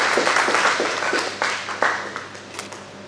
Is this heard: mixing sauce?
no